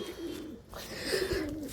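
Soft, low cooing of pigeons, a rolling throaty murmur that swells slightly toward the end, fairly close with faint background noise.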